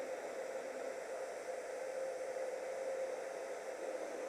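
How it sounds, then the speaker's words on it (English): A household hair dryer blows steadily to heat a holster, a faint, even whooshing hiss with a slight whine that holds unchanged throughout, no voices. "you can use just stuff you have around the house, just your good hair dryer"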